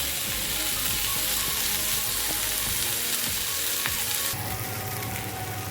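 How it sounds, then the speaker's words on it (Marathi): Bangda mackerel fries in hot oil in a pan, a loud, dense, continuous sizzle with occasional light stirring clicks, near and steady throughout. "अशी चारी बाजूने फ्राय करून घ्यायची"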